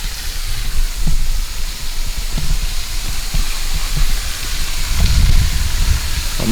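Steady hiss of a modest waterfall in Shawnee National Forest, a continuous rushing wash of falling water with occasional louder splashes, near and unbroken, with no talk.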